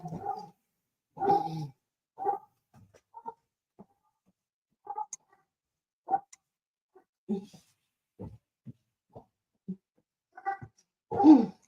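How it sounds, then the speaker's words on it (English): Distant, irregular barks from a dog come in short scattered bursts with quiet gaps between them, faint and muffled. "Do you hear him barking?"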